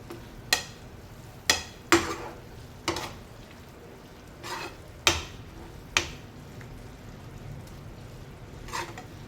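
Onion sautés in a pan for Schezwan chutney, a soft, steady sizzle beneath sharp, irregular clinks as a spoon stirs and scrapes against the pan.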